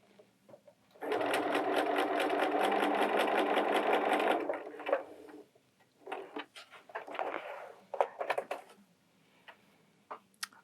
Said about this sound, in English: This is going to be a basting stitch.